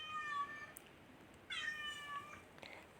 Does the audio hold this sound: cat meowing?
yes